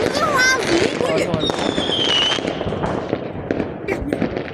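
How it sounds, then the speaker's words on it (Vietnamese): New Year's Eve 2025 fireworks burst over a Vietnamese hometown in a dense run of crackling pops and bangs with whistling rockets, close and loud, while people chat throughout. "Pháo năm nay đẹp nhỉ?"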